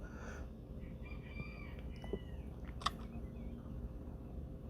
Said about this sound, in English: Yes, I have a rooster in my backyard.